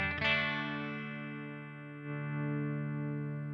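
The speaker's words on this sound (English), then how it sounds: "Next is the Dark Double. Now this is a Fender 65 twin reverb." An electric guitar played through a Sonicake Matribox modeling a Fender '65 Twin Reverb amp rings out as a sustained chord that decays slowly with a light re-strum, full and clean with a shimmering, effected tone and no talking.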